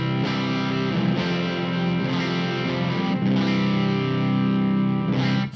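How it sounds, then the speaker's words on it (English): Heavily distorted, fuzzy electric guitar tuned to C standard, played through a Hughes & Kettner amp with Mr Glyn's DRAIG pickups, ringing out sustained, dense low chords in a continuous doomy wash that cuts off abruptly at the end. "So this is like a low tuning, doomy kind of guitar."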